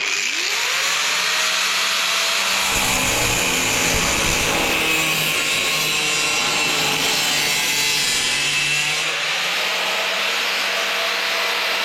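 A power tool cuts through the steel door skin of a classic Mini with a loud, continuous high whine that shifts in pitch as the blade bites, going on for several seconds.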